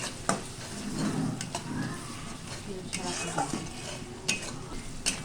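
Spices being stirred and fried in a pot for a village-style chicken curry, a steady sizzle with scraping spoon strokes and occasional clinks against the pot throughout.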